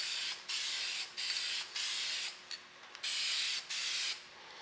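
Aerosol spray paint hissing onto a snow blower rear guard in a series of steady bursts, about eight sprays of roughly half a second each separated by short pauses, close and fairly quiet.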